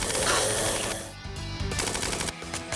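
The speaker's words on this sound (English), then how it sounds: "Can I have this minigun forever, please?" Minigun firing in the video game Tequila Zombies, a dense, continuous loud rattle of rapid shots that briefly eases before resuming in bursts.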